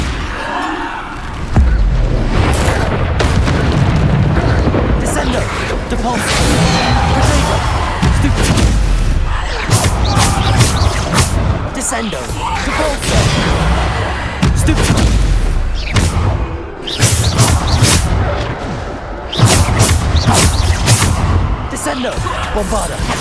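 Bombarda spell explosions in the game Hogwarts Legacy, with repeated loud booms and bangs in irregular bursts. A voice keeps calling out over the combat noise.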